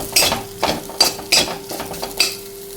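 Ginger and chilli paste being stirred and fried in a pan for a paneer dish, heard as a series of scraping spoon strokes over a low, steady sizzle, close by, with no speech.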